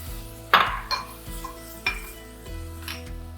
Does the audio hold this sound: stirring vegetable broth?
yes